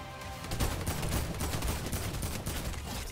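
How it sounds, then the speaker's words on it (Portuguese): Dense, continuous rattle of rapid gunfire in Fortnite, steady and loud throughout with no pauses or speech. "Mano, não acertei um tiro no Cedu"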